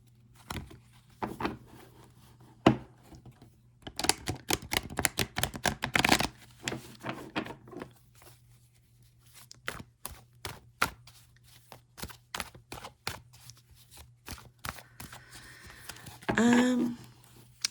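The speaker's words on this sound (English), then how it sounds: "Let me just do a little bit of shuffling here" Tarot cards being shuffled by hand in quick bursts of riffling and tapping, close up and fairly quiet, with pauses between rounds.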